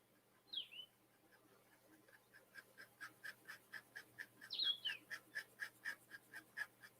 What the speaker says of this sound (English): I have a bird right outside my window.